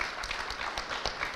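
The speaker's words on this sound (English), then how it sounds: "I'd like you to put your hands together for this lovely panel" A conference audience applauds a panel in a short burst of clapping, many hands rattling together steadily and moderately loud with no voices over it.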